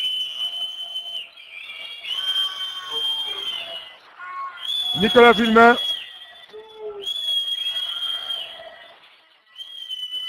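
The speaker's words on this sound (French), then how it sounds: "Sous les sifflets du public." Rugby crowd at a French Fédérale 1 match whistling at the referee three minutes from time, a sustained shrill whistling chorus running through the whole stretch, rising to a loud, dense burst midway, while a commentator talks over it.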